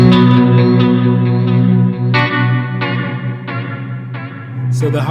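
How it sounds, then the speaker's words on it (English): An electric guitar played through a KMA Audio Machines modulation pedal, picked hard, with several strong chord and note attacks ringing out. The notes carry a chorus-like shimmer and reverb tail, and no one speaks. "You will hear some modulation going on then."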